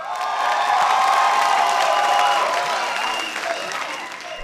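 An audience at the second semi-final of a televised talent contest in 2018 breaks into dense, loud applause mixed with cheers and whoops, holding strong for a few seconds before slowly tapering off.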